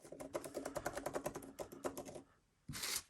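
Fingers type on the keyboard of a 2021 MacBook Pro 14-inch laptop, a quick, fairly soft patter of close key clicks that pauses briefly before a final louder tap.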